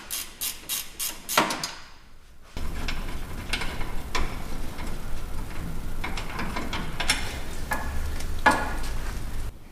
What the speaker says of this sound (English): Now disconnect this ABS sensor bracket from the frame using the same 12mm end wrench